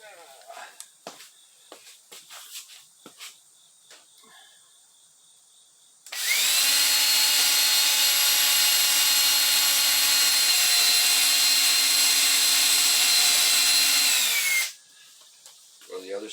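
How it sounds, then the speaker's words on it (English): A power drill bores into wood while an adventure trailer or chuck wagon is being built, running as one loud, steady whine for about eight seconds after a quiet stretch of scattered handling knocks. "Then I'll drill it."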